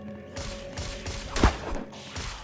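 Bursts of gunfire in a shooter video game, several quick rattling volleys with one sharp louder shot near the middle, fairly close and unaccompanied by talk.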